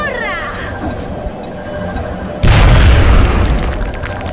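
A grenade detonates in the turn-based strategy game X-Com: Enemy Within, a sudden loud boom with a heavy low rumble that cuts in over quieter game sounds and fades out over a couple of seconds.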